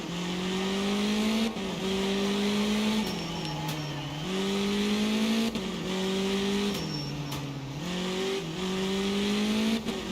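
A Group 3 race car at the classic British Grand Prix in Assetto Corsa screams through the gears, its engine note climbing and dropping with each upshift, loud and close with no talk.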